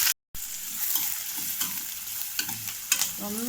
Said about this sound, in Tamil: லைட்டாக ஓரளவுக்கு வெங்காயம் சாஃப்ட் ஆகிற வரைக்கும் வதக்கினா போதும்.